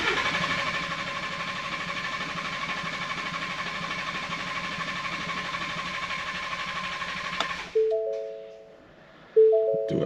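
A Ford Expedition's 3.5L V6 EcoBoost engine runs with a loud, steady mechanical drone close by, then cuts off abruptly and is followed by brief tonal chimes before a short restart surge.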